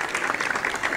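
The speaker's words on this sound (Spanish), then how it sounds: "Pido un fuerte aplauso para ellos." A brief burst of audience applause for performing artists at a street inauguration and music-in-the-squares event, dense continuous clapping from a crowd, close and steady.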